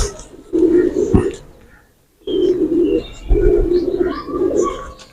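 Champion pigeons coo on a rooftop in two rich, rolling bursts split by a brief silence, close and fairly loud, with faint higher chirps scattered above.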